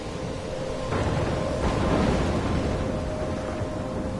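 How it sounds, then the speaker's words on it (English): Stormy weather in the game Life Is Strange: steady roaring wind and rain with low rumbles of thunder swelling twice, continuous and fairly loud with no voices. "I'm trapped in a storm?"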